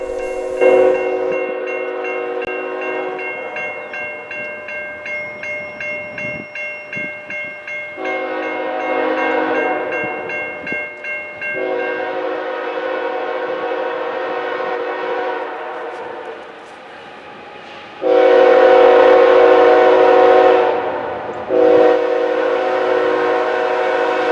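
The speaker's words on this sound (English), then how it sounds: "On the front of the train is NS 8106 and 2751, and in the middle of the train is NS 1001 and 8026" A Ringling Bros. and Barnum & Bailey circus train led by Norfolk Southern locomotives 8106 and 2751, with NS 1001 and 8026 mid-train, rumbles past with loud sustained multi-note horn blasts, strongest toward the end, over steady rolling wheel noise.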